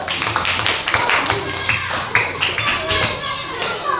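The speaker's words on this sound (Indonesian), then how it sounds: "beri tepuk tangan untuk kelompok 1" A group claps with uneven, scattered hand claps close by in a classroom, mixed with children's voices chattering underneath.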